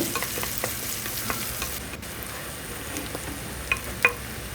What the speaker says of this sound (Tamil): அதை போட்டுட்டு பொன்னிறமாக வர வரைக்கும் வதக்கிக்கோங்க.